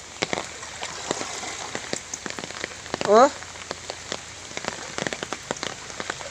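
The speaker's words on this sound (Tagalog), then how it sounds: "pag malakas ang ulan" Rain falls steadily on a surface nearby with scattered sharp drips and patters; a person briefly makes a short vocal sound midway.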